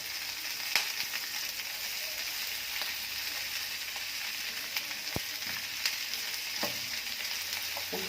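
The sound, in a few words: peppers and garlic frying, being stirred in pan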